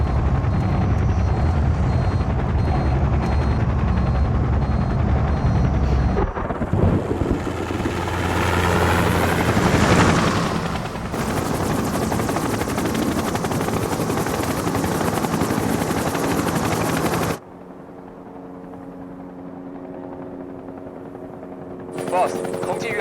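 A helicopter flying high near Everest in thin mountain air: a loud, close, continuous rotor thrum and engine roar that shifts in tone partway, drops away sharply, then returns more faintly, with voices over it.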